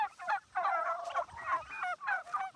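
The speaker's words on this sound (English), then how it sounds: "And then there's another set of turkeys right over the knoll right down there." Flock of turkeys on a farm, over four hundred birds in two groups, gobbling in repeated bursty rolling calls at moderate distance, with no talk.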